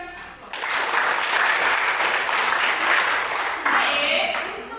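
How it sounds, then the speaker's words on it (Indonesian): Students applaud in a classroom, steady clapping from a group that starts abruptly, holds for several seconds, then swells briefly before tapering off. "Ya, saya akan berikan aplaus."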